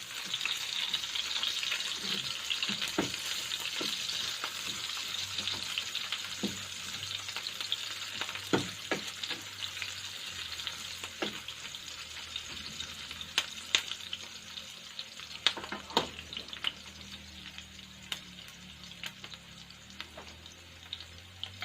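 Garlic and onion sauté in a pan for adobong talong, a steady sizzle that slowly softens, dotted with irregular clicks and scrapes of a utensil stirring, with no speech.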